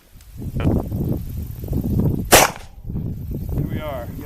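A single sharp gunshot cracks from a .45 Long Colt lever-action rifle, loud and close, with muffled movement and low murmuring voices before and after.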